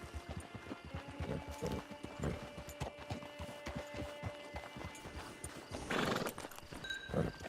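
In the video game Red Dead Online, hooves clop steadily at a brisk walking pace, close and rhythmic, then a horse lets out a loud whinny near the end as the clopping continues.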